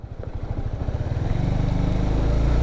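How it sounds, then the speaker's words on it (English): A motorcycle drops into first gear. The engine putters unevenly at first, then settles into a loud, close, steady chugging idle. "Release your gas, clutch in, go down to gear 1, and then release slowly"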